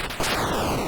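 Gunfire from the Atari 2600 game Radar Lock, a sudden burst of retro electronic noise that starts abruptly and holds steady at a loud level, with no talking.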